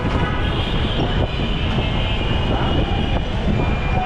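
A Dhaka metro rail train runs steadily from Motijheel toward Pallabi, its wheels and motors making a loud, continuous rumble and hiss throughout, with no talk.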